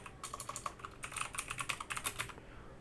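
Rapid keystrokes on a computer keyboard while entering text into an email form, a steady run of close, crisp clicks in short bursts with no talking.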